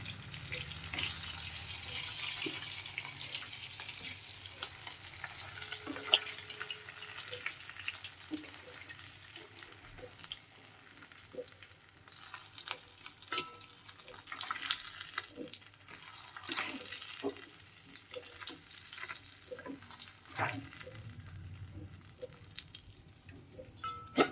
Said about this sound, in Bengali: মাছটা খুব বেশি ভাজবো না, হালকা ভাজলাম।